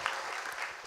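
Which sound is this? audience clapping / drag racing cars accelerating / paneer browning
audience clapping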